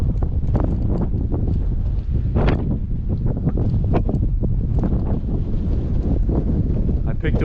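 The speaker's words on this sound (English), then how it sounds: "It's really windy over this bridge" Strong wind buffets the microphone on a high bridge between two bluffs on a cold, misty, foggy day, in continuous gusty roars, loud and close, with no voices heard.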